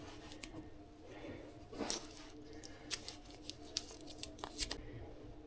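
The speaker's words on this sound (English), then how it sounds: "I'm just going to tape the end of this so we don't get any stuff in there." Tape is handled and wrapped around the end of a networking cable, giving a faint burst of rustling and tearing followed by scattered small crinkles and clicks over a low background hum.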